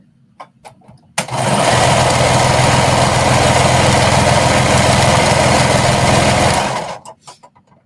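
Sewing machine running steadily through a knit skater dress seam at a quarter-inch allowance, a loud, even motor drone with a rapid stitching rattle lasting about five seconds, starting and stopping abruptly between quiet pauses.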